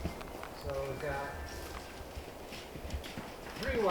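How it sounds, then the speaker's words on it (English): Hooves of three wild Apache horses clip-clop softly on open Arizona ground, a few uneven steps at a distance, while people talk quietly over them. "3 wild horses, it looks like. Okay, oh, Apache horses."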